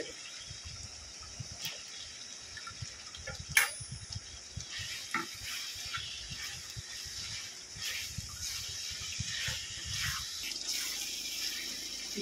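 Chicken or mutton liver pieces sizzle and fry in a cooked-down spice masala with released oil, with steady crackling hiss and repeated stirring scrapes in the pan for about twelve seconds, and no talking.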